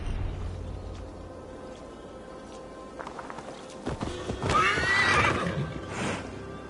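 A horse ridden through a forest in the video game Assassin's Creed Valhalla whinnies loudly in the second half after a few hoof clatters, the neigh rising and trailing off over soft background ambience, with no talk.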